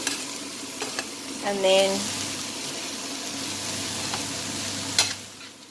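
A spoon stirs green bean curry in a pot over heat, giving a brief scraping, sizzling burst amid a steady frying hiss, with a few short words spoken nearby.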